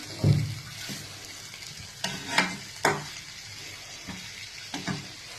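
Potatoes stirred in a frying pan, a spatula scraping in a few distinct strokes over a faint, steady sizzle, with no voices.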